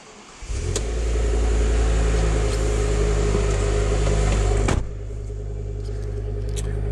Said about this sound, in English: Now, starting the car up.